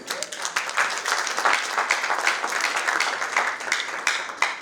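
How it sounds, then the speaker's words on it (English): Audience applause at a speech event during the CW2018 speeches, dense clapping from a crowd sustained steadily for several seconds with no talk over it. "I request that we give her an applause"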